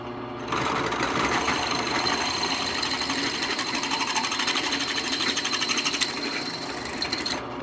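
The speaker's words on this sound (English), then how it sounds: "So I'm going to the third hole now, and I'm up into the 7/16 bit." A drill fitted with a 7/16 bit bores a hole through a motorcycle clutch or brake lever, a loud steady whirring grind after a brief start, then cuts off at the end.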